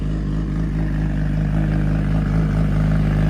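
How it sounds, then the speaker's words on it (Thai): A 2019 Kawasaki Ninja ZX-10R sport bike engine running close by, a loud steady mechanical drone with only slight swells and no sharp rev peaks. "เดี๋ยวเดี๋ยวตั้งกล้องแล้วก็เบิ้ลเสียง เบิ้ลให้ฟังเสียงดู"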